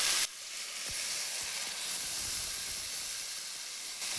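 Coconut paste hits hot frying masala for a chicken and egg gravy, setting off a sudden, steady sizzle and hiss that carries on evenly for about four seconds.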